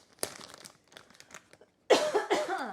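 A couple of harsh coughs burst out near the end, following quieter rustling and crinkling sounds.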